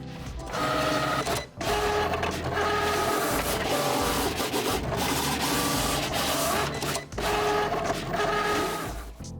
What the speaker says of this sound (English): Then I sent the design to the machine, loaded my smart vinyl, and let it cut.